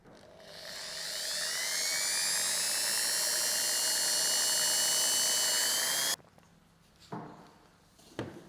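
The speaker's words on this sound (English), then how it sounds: "Here's a little shim mixer to give that a good blend." Small shim mixer on a power drill blending powder into resin for glass lamination, a high whirring that spins up and holds steady for about six seconds, then stops, followed by a few light knocks.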